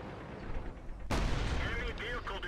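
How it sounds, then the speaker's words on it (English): A tank cannon fires in World of Tanks, one sharp loud blast that cuts in abruptly and rolls on as a sustained boom over a rumbling battlefield background. "3-4 rushes him and gets shot."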